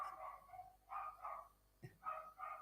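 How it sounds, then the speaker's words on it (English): A dog barks a few times in short, mid-pitched bursts, somewhat distant and faint, with gaps between the barks and a soft low hum underneath. "Sorry about the barking dog."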